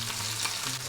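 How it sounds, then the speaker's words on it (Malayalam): Chicken pieces frying in hot oil for loaded fries, a steady dense sizzle holding at an even level from start to finish with no talk. "ചിക്കൻ എല്ലാം ഫ്രൈ ചെയ്തെടുത്തിട്ടുണ്ട്"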